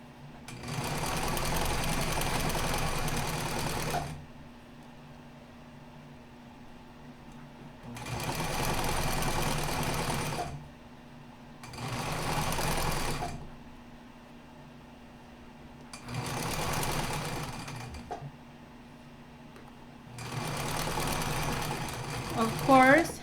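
Sewing machine stitching a fabric seam on a skirt runs in five bursts of a few seconds each, a fast steady whir, loud and close, separated by short pauses.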